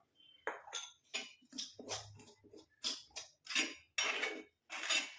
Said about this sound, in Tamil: இப்போ நம்ம எடுத்து வச்சுருக்க டிகாஷனை கொஞ்சம் கொஞ்சமாக ஊற்றி மிக்ஸ் பண்ணிக்கலாம்